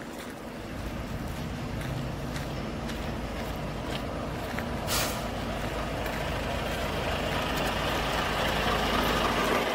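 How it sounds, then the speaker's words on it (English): Air brakes on a truck trailer are applied during coupling, with a steady idling truck engine throughout and a short sharp burst of hissing air midway, fairly close and moderately loud. "we will apply the trailer brakes again"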